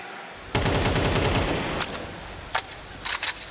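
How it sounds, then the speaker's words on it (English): Automatic rifle fire in a Counter-Strike match at the StarLadder Budapest Major 2025, a long loud burst of rapid shots followed by a few shorter separate bursts, with no commentary audible. "K-Serato gets his revenge, sends bullets back through, and Makaze not able to live longer than his"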